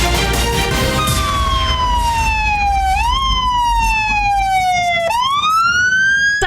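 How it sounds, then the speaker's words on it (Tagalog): Fire station sirens in Legazpi City wail loud and continuous for Fire Prevention Month, the tone sliding down slowly and then jumping back up twice, heavy and sustained throughout. "Sabayang nagpatunog ng sirena ang mga fire station sa Legazpi City bilang hudyat sa pagsisimula ng Fire Prevention Month."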